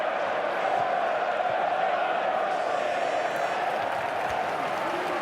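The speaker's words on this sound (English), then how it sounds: "that got the crowd excited, that attack" Stadium crowd noise in the FIFA 13 football video game, a dense continuous roar of cheering and applause swelling after an attack, with faint commentary voices underneath.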